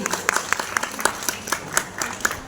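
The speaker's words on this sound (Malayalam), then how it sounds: "എല്ലാവർക്കും നല്ലൊരു നിറഞ്ഞ കയ്യടിയോടുകൂടി തന്നെ നമുക്ക് ഇവരെ ഒന്ന് സ്വാഗതം ചെയ്യാം" Applause from a small group welcoming relatives at a sweets-giving ceremony, a steady patter of hand claps with sharper individual claps standing out, close and lively throughout.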